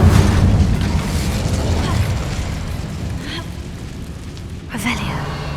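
A Bombarda blast spell in Hogwarts Legacy, cast at a battered old bridge, erupts as a loud deep boom that rumbles and fades over several seconds, ending in a sharp crackle.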